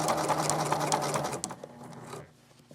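A sewing machine stitches an appliqué onto fur fabric with a fast, even mechanical whir that runs steadily, then stops and trails off into quieter handling noises near the end.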